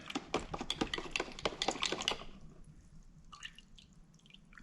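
A paint brush is swished and tapped in a container of water, giving a quick run of loud splashy clicks and drips that stops abruptly, followed by quieter faint handling noises.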